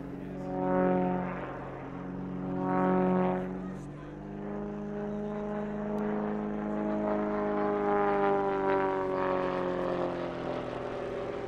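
Extra 300S propeller aerobatic aircraft performing a display at a country air show, its engine note swelling and fading in two passes before settling into a sustained, pitch-shifting drone as it maneuvers.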